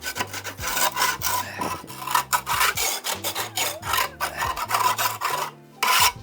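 A blade scrapes softened material in quick repeated rasping strokes, close and uneven in rhythm, with brief pauses between passes and no talk.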